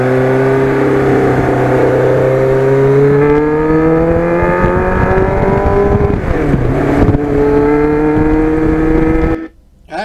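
A 1989 Kawasaki GPX750R motorcycle rides along, its engine loud and close with a steady rising whine through the gears, a brief dip as it shifts, then wind buffeting before a sudden drop at the end.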